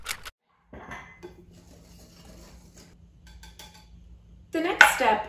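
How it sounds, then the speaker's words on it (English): A whisk scrapes and taps softly in a bowl, mixing salt into whole grain pastry flour for a Cheshire pork pie, then ends in a louder burst of clattering and scraping near the close. "Then we're going to whisk in the salt."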